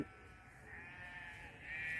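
A goat gives one drawn-out, wavering bleat from a field at dusk, heard fairly close and clear against a quiet outdoor background.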